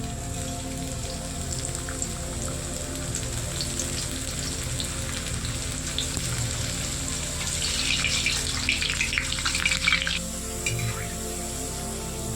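Raw potato slices fry a few at a time in hot oil for homemade chips, giving a steady close crackling sizzle like light rain that thickens briefly into busier popping.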